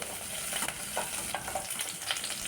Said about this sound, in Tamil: கருவேப்பிலை போட்டுக்குங்க, அதுவும் பொரியட்டும்.